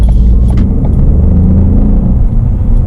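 A Ford Fiesta RED edition drives along with a steady, loud low rumble of engine and road noise filling the cabin, no one speaking.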